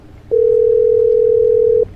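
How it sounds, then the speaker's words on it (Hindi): A telephone dial tone sounds as a single steady, loud, pure beep lasting about a second and a half, starting and stopping abruptly over a faint low background hum. "मैंने फ़ोन उठाकर धीरे से पुलिस को कॉल कर दिया"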